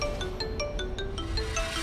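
A mobile phone ringtone plays quietly, a repeating melodic pattern of short bright tones in a steady rhythm over a low background hum.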